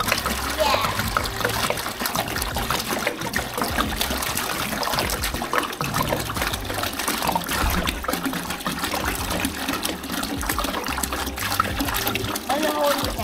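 Water splashes steadily into a 32-gallon BioCube saltwater tank as it is filled, a continuous close-up churning and spattering that runs throughout, with voices, including a child's, talking over it.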